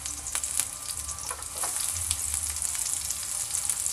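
Garlic and onion fry in a hot pan, giving a steady, close sizzle with crackling pops and occasional scraping stirs throughout.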